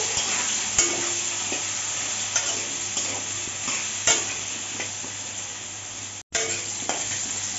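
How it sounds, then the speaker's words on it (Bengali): Potatoes with salt and turmeric fry in a pan with a steady, close sizzle, punctuated by irregular scrapes and knocks of stirring, and no talking. "এখন ভালো করে নাড়িয়ে ছাড়িয়ে আলুটাকে ভেজে নেব"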